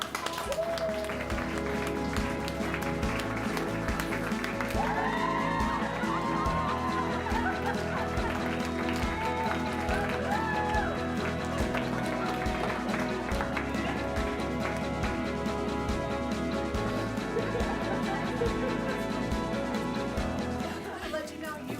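Sustained audience applause for a school district award recipient, steady clapping at even loudness throughout with a faint murmur of voices and some tonal background underneath.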